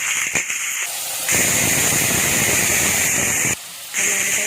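Loud, steady sizzling hiss of food frying in hot oil, with brief breaks where the sizzle drops and then returns.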